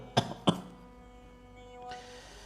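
Two sharp deliberate coughs during a group therapy session, close and distinct in quick succession, followed by quiet room tone and a faint hiss.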